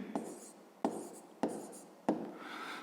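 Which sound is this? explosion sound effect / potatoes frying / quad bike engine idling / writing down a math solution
writing down a math solution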